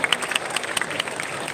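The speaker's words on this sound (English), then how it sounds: "Let's give them a huge round of applause one more time," Audience applause for panelists at a Malaysian economic forum, a dense patter of clapping with a few sharp claps standing out, steady and fairly close for the whole stretch.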